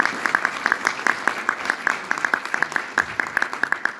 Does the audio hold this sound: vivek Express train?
no